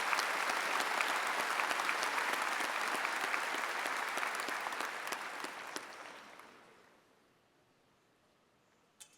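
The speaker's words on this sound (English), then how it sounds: "Let's one last round of applause for our performers and our speakers as they take their seats." Audience at a Blue Valley West high school graduation ceremony gives a loud, sustained round of applause that gradually fades out, leaving a quiet hall with one faint knock at the end.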